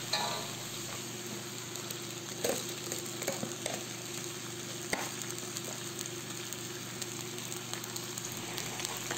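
Okra, string beans, alukon and sweet potato sizzle and fry steadily in a pan with a soft, continuous crackle and a few occasional louder pops, heard alone with no talking.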